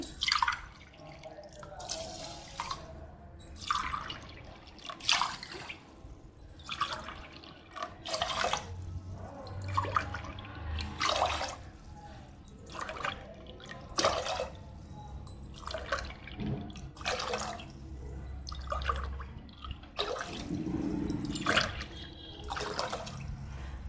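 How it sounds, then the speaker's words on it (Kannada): Water is poured into a pot in repeated cupfuls for cooking pongal, making a series of gushing splashes with short pauses between pours, close and moderately loud, with no talking. "ನಾನು ಒಟ್ಟು ಎಂಟು ಲೋಟ ನೀರನ್ನು ಹಾಕೋತಾ ಇದ್ದೀನಿ"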